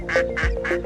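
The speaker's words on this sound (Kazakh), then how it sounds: "Үйрек барылдайды." A duck quacks three times in quick succession, each quack short, nasal and close, filling under a second with no other sound around it.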